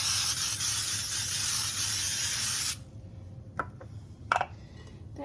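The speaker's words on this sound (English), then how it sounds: "First start off with spraying this with baking spray." Baking spray hisses steadily into a baking pan for close to three seconds, a loud continuous spray that cuts off abruptly, followed by a few light clicks and taps in a quiet kitchen.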